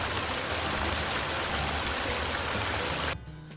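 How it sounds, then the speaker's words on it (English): A waterfall in the video game Sons of the Forest, a steady loud broadband rush of falling water that cuts off abruptly near the end, leaving a quieter low hum. "go underneath the waterfall"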